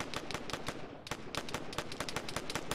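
Rapid gunfire in a competitive tournament video game match: sharp shots crackle in quick, uneven bursts, with a brief lull before the volleys pick up again. The shots are loud and close, and no one talks.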